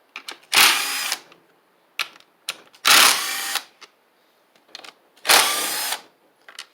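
A power driver with a 5/16 socket backs out the coil bolts on a Homelite Super EZ chainsaw. Three loud, close whirring bursts come at even intervals, with faint clicks and handling noises in between.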